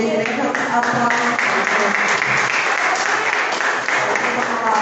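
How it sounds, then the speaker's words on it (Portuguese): A church congregation at a miracle worship service breaks into sustained applause, a dense, loud wash of clapping filling the room and continuing throughout with some crowd voices mixed in. "Igreja, aplausos."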